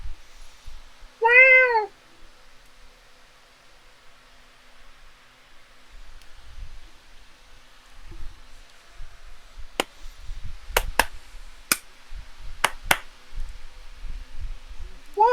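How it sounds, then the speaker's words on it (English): A cat meows once from somewhere above, a short clear call standing out against quiet room tone, followed later by scattered clicks, taps and low rustling nearby, with a single brief spoken exclamation. "I hear you meowing up there."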